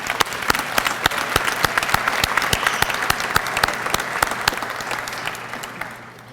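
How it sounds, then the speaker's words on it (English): Steady applause from an audience at a school district employee retirement and recognition ceremony, dense clapping sustained for about six seconds before tapering off at the end. "Let's give her a round of applause."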